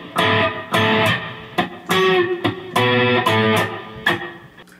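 Electric guitar replays a passage at a slow pace, with distinct strummed chord bursts separated by brief gaps, close and even in level with no talking.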